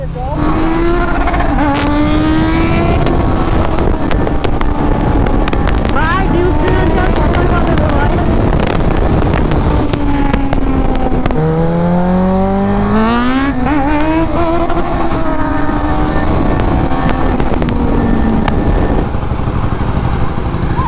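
KTM Duke 390 and Kawasaki Z900 motorcycles racing from first gear, loud continuous engine roar with rising and falling revs through gear changes, close and sustained, with voices mixed in.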